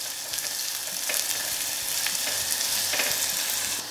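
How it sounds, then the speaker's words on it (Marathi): Finely chopped onion sizzles and fries steadily in a pan of oil with tempered mustard seeds and cumin, a continuous close crackle with faint stirring scrapes, no voices. "आता आपण याच्यामध्ये बारीक चिरलेला कांदा घालूयात. कांदा मंद असेवर थोडासा परतून घेऊ."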